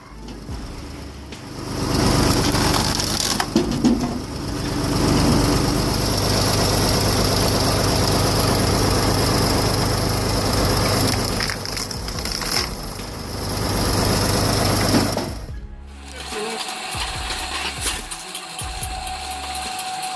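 A homemade firewood processing machine runs steadily at close range, its loud engine drone and mechanical churning holding for about fifteen seconds before cutting off abruptly, leaving quieter, irregular knocks and clatter.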